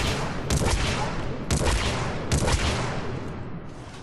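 A Disciple shotgun in Mass Effect 3, fired from the hip at short range, booms three times about a second apart. Each shot is a loud, sharp blast with a short decaying tail.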